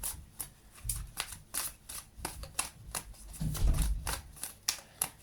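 Tarot cards are shuffled by hand in rapid riffling bursts of papery slaps, close and moderately loud, repeating steadily throughout with no talk.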